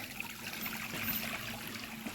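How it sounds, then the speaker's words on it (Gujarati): Steady trickling water runs continuously from a tank in a cattle shed, a soft gurgling flow draining away without pause; no voices. "જો આ પાણી બધું નીકળી જશે"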